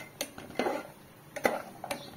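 A spoon stirs a mixture roasting on a low flame for a homemade sweet, a few soft scrapes and clinks against the pan, fairly quiet and close.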